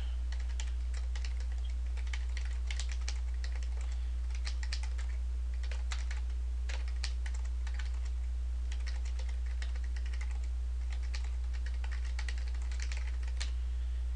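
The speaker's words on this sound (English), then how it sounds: "we can go down here to this Notes button, and we can type in our note" Speaker notes are typed on a computer keyboard in quick, uneven bursts of close, crisp keystrokes, with short pauses between runs and a low steady hum underneath.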